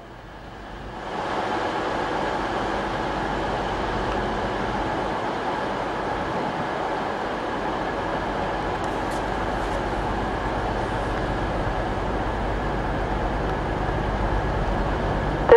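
A steady, fairly loud rumble of a train at a Sheffield station platform, continuous and unchanging, with no voices over it.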